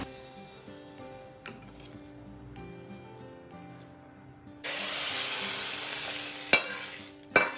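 Cauliflower and edamame in tomato sauce are tossed in a wok: a few faint spatula scrapes and taps, then a sudden loud sizzling hiss from midway, with two sharp clanks of utensil on pan.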